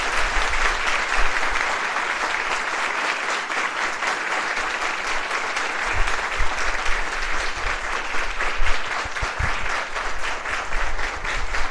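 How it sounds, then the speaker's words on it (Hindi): An audience at a motivational session for government exam students breaks into loud, sustained applause, dense clapping that holds steady for about twelve seconds with no break. "तो जोरदार तालियां होनी चाहिए।"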